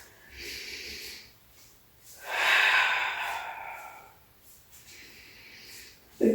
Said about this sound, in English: Inhaling for one, exhaling for one, or if you want to go a little faster, you could inhale for two and exhale for two